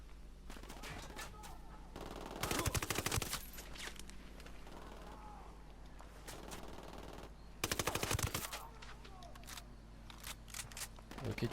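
Automatic rifle fire crackles in Ghost Recon Wildlands in two dense, loud bursts a few seconds apart, with scattered single shots and game ambience between and someone talking in French now and then.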